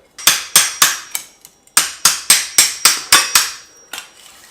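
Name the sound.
hammer tapping a spanner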